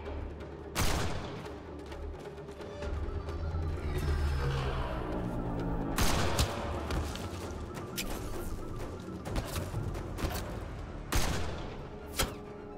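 Gunfire in the video game Mass Effect Andromeda as shots are aimed at a sniper: sharp bursts and heavy single blasts that recur across a loud combat soundscape with a rumbling background.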